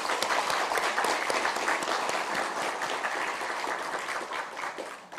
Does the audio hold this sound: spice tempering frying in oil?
no